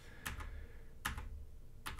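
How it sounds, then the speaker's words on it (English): Up and down arrow keys on a computer keyboard pressed in quick pairs, three clicky bursts spaced under a second apart, close and fairly quiet, no talking. "I switch to the keyboard and the up and down arrow keys"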